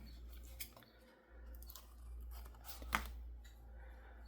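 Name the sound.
trimming paper for a junk journal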